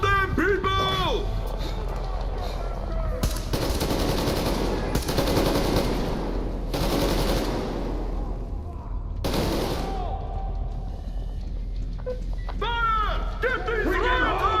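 Sustained bursts of automatic gunfire crackle through a Metro Exodus cutscene as soldiers fire on rioters, loud and dense in several long volleys, with shouted voices in between.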